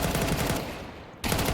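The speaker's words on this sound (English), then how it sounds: "Oof, the flying JL pistol." Rapid pistol gunfire in a Counter-Strike 2 match, a dense run of shots that stops abruptly, a short lull, then the firing resumes loudly.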